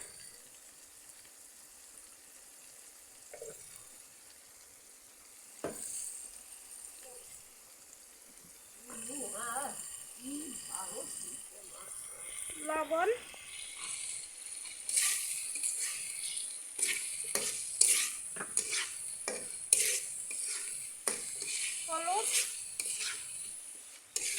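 A spice mix of dried chili paste and coriander powder being fried and stirred in a pan: soft scraping, clinks of a utensil and a faint sizzle, quiet and close, with occasional voice in the background.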